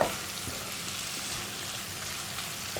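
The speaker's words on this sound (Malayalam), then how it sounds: "നന്നായിട്ട് സൈഡിലൊക്കെ ആ എണ്ണയൊക്കെ തിളച്ച് വരുന്നുണ്ട്." Oil bubbles around ivy gourd frying in a pan for a Kerala-style stir-fry, making a soft, steady, even sizzling hiss heard close by without any talking.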